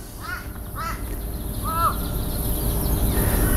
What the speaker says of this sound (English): The old crow up there waiting for some piece of flesh to die on the ground.